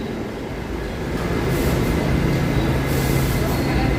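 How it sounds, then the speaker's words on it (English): A Brooklyn-bound D train sits across the platform in a New York City subway station, giving off a loud, steady rumble and hiss that swells slightly, with faint clatter on top and no talking. "Okay, so that train across the platform is the Brooklyn bound D."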